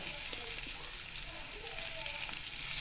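Onion with green chillies frying in a pan for a Marathi methi bhaji dish, giving a soft, steady sizzle throughout with faint clinks from stirring.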